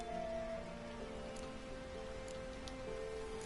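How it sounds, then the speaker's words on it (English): Steady rain falls in The Witcher 3 video game, a continuous even hiss that runs the whole time under tonal in-game music, with a few faint higher patters and no talking. "at least I can use my Thunderbolt now because it's raining"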